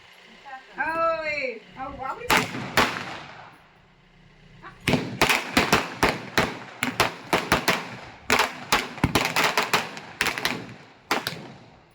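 A voice speaks briefly, then a loud, irregular string of sharp firecracker bangs pops in quick bursts, some crackling close together.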